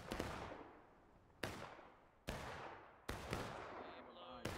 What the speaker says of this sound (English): Yep, we're shooting them.